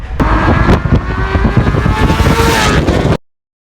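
Hero Destini 125 scooter engine with i3S idle stop-start system, firing back up and revving as the throttle opens, a loud, busy buzzing run up close that cuts off abruptly near the end.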